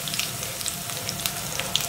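Chopped garlic dropped into hot ghee with cumin in an iron kadhai, gas switched off, gives a steady soft sizzling hiss with scattered tiny crackles throughout.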